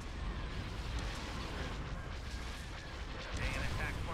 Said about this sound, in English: All batteries commence firing.